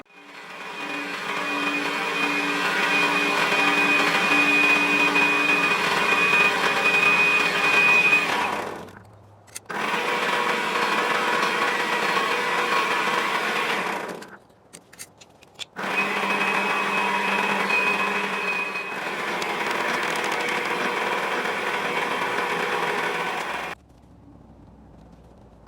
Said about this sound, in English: So I will put this on the lathe and see if we can copy that onto this.